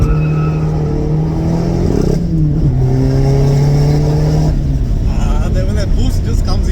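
A VW Golf 6 GTI engine climbs steadily in pitch as the turbo boost builds, a strong rising rev tone heard inside the car, with people talking over it.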